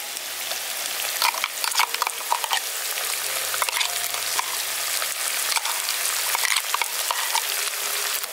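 Mustard paste hits hot oil in a pan for rui fish curry, crackling and sizzling steadily up close with intermittent stirring clatter and no voices.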